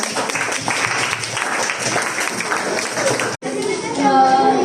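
Classroom applause for a pupil in a primary-school maths lesson, a dense patter of children's clapping lasting a few seconds, fairly close, then a brief cut into room noise with faint voices.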